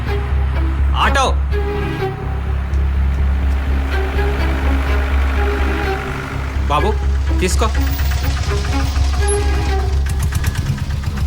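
An auto rickshaw engine idles with a steady, loud, low rumble throughout, while people talk close by over it.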